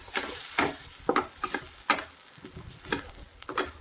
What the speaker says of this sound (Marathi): मस्त असं परतून घ्यायचं आहे आपल्याला कलर चेंज होईपर्यंत